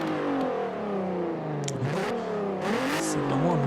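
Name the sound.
Volkswagen Golf 3 VR6 engine revving, video game Forza Horizon 4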